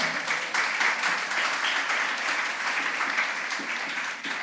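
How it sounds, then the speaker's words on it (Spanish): A church congregation applauds during a Sunday service, a loud, continuous wash of many hands clapping that holds steady throughout with no speech over it. "Denle un fuerte aplauso al Señor."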